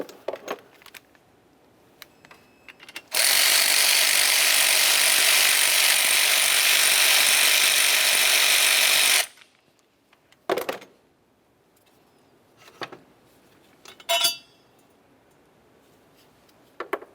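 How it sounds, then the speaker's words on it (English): A ratchet wrench works the final alternator bolt free on a 2004–2010 BMW X3, a fast continuous clicking run lasting about six seconds, followed by a few brief metallic clinks and handling noises, close up. "We're ready to fully remove our final bolt"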